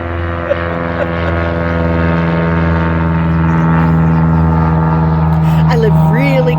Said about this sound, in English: a plane goes over my head